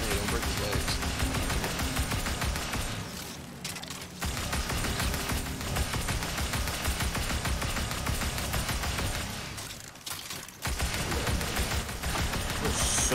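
Dense gunfire fills a Destiny Grandmaster Nightfall battle in the Hollowed Lair, a loud continuous fusillade of rapid shots and blasts with only two brief lulls.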